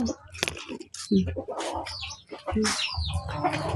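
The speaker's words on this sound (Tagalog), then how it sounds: "Mga manok ko." Chickens cluck and squawk close by in a yard, with rustling and occasional wing flaps mixed in and a voice speaking briefly among them.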